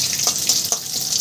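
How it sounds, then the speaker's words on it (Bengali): Green chillies, a torn bay leaf, cumin and black cumin hit hot oil in a pan, giving a dense, steady hiss with a few soft pops and crackles. "ফোড়নটা 2 সেকেন্ড ভেজে নেব।"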